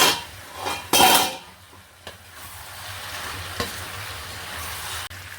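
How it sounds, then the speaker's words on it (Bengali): Winter vegetables cooking in a pan, with a bright clatter as the lid is lifted, then a steady sizzle and occasional spoon scrapes and knocks as they are stirred; no talking. "এবার ঢাকাটা খুলে একটু নেড়ে দেব"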